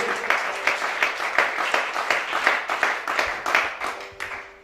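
Rhythmic clapping from a church congregation at a teaching service, many hands striking together in a steady beat that carries through the whole stretch, loud and close, with no voices over it.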